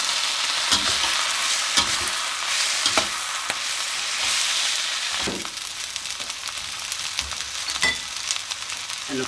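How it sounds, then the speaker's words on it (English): Yakisoba noodles dropped into a hot pan with mushrooms and stirred, a steady loud hiss of frying broken by scraping, clattering stirs at irregular intervals, close up and without talk. "Alright, then we're going to be adding our noodles."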